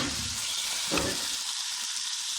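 Whole green chilies, slit down the middle, sizzling in hot oil in a pan: a dense, continuous close-up hiss with a short stirring burst partway through.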